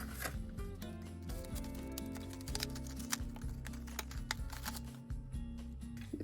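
A knitting needle cable package is torn open by hand, giving quiet crinkling and ripping with small clicks over soft background music.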